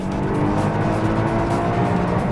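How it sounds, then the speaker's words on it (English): A Lotus Evora S engine roars at high revs, a loud sustained drone held steady near its rev limit, close up with no voices. "if I increase the RPM,"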